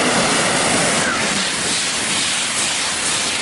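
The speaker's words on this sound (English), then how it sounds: "I can hear the splashes in the train tracks" A European high-speed train runs on wet tracks in the rain, producing a loud continuous hiss and spray-like rush with a low rumble beneath, steady throughout and without voices.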